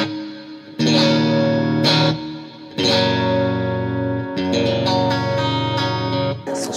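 An electric guitar through a Neural DSP Quad Cortex with reverb plays sustained chords in three bursts, each ringing out with a spacious reverb tail, clean and fairly loud, in a studio.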